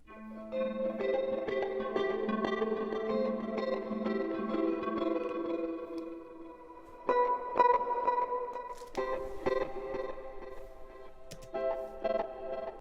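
Guitar notes drenched in reverb and delay on a smooth R&B beat, sustained chords giving way to sparse plucked phrases with echoing tails.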